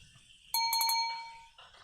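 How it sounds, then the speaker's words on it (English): A doorbell rings out in a room, a bright multi-tone chime with a few quick repeated strikes and a lingering ring, loud and close before fading, with a second softer tone at the end. "Ring your bell."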